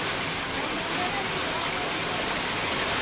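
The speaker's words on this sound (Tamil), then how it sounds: "மழை பாருங்கள் எப்படி பெஞ்சிட்ருக்குதுன்னு" Steady rain pours down at dusk in a rural Tamil setting, a continuous dense hiss that stays loud and unbroken throughout, with no voices over it.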